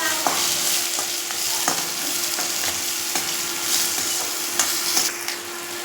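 Onions frying with spices in a pan make a continuous sizzle, broken by the clatter of a stirring spoon against the pan at intervals, close and moderately loud, with no talk.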